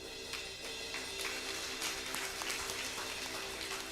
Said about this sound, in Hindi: ताली बजा जोर से